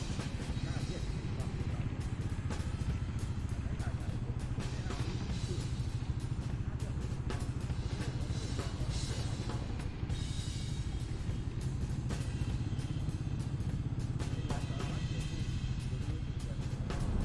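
Royal Enfield Meteor 350 motorcycle ridden on the road, a steady low engine rumble with wind and traffic noise running throughout, heard close up under continuous talk from the rider.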